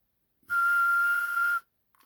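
A single steady whistled tone lasting about a second, sent through a Cobra 148 GTL CB radio's front mic into a Palomar Skipper 300 RF amplifier on sideband, loud and clean against silence.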